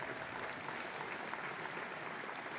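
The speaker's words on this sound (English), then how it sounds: "Can you give them a round of applause for putting this together?" An audience at a city's annual State of the City address gives a steady round of applause, even and continuous throughout, with no speech over it.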